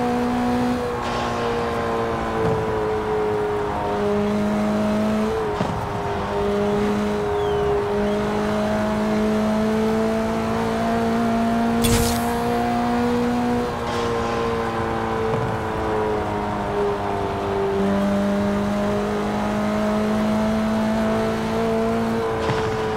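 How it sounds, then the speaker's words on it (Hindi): Honda Civic Type R with a full manual transmission, its engine revving up through repeated climbs and dropping at each gear shift, loud and close with no one talking. "जो आप जो साउंड देख रहे हैं ना, तो तगड़ा आ रहा है गियर शिफ्टिंग में"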